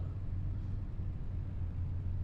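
A low, steady diesel truck engine rumble in a farming video game drones on throughout, a constant deep hum with no breaks or speech.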